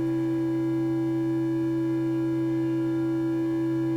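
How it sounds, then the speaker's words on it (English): EMS Synthi A synth patch built in VCV Rack rings out a sustained bell-like tone, several steady harmonics holding at an even level throughout, alone with no voices. "It sounds like a bells in church."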